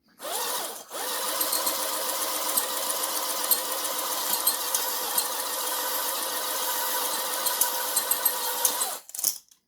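Power-driven cylinder hone working inside the barrel of a 1979 AMF Harley-Davidson XLH1000 Ironhead Sportster, a loud continuous whirring and grinding buzz that holds steady for about eight seconds before stopping.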